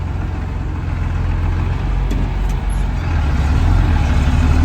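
A tractor engine runs close by on a farm, a loud steady low diesel rumble with throbbing bass and no change in pace, alone without talk.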